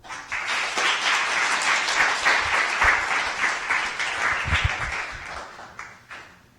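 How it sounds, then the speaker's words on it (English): Audience applause at a community centre media night in Parkdale, Toronto: a sustained wash of many hands clapping, fairly loud and even throughout, tapering off near the end with a few louder claps and stray voices. "Everyone, a hand of applause."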